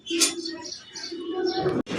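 Pigeons on a fifth-floor rooftop in Dhaka coo and chirp close by, soft repeated calls over faint city background, ending with a brief knock.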